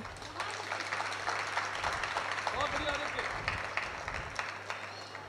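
An audience at a Hindi kavi sammelan poetry gathering applauds. The crowd clapping is dense and continuous, sitting at a moderate level under a voice that keeps speaking throughout.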